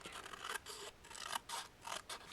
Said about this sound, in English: we're also going to use our grass shears again